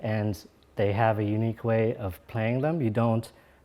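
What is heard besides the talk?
No everyday noise stands out behind the speech.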